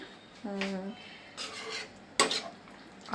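Papaya and soybean curry is stirred in a pot with ginger-cumin paste and garam masala, giving a few soft scraping strokes and metallic clinks of a spoon against the pot, close and fairly quiet.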